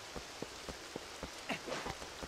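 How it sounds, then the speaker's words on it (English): Rain falling in the video game Twilight Princess, a steady soft patter of scattered droplet taps against a constant hiss, fairly quiet with no talk. "Oh no, it's raining."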